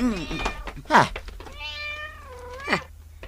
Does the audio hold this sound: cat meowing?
yes